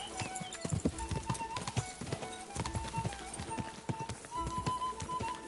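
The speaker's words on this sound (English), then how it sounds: "Gotta stop and give your horse a little bit of time to get stamina up." Horse hooves galloping in the video game Kingdom Come Deliverance 2, a fast, steady clip-clop of repeated hoof strikes with a busy ambient background throughout, no voices present.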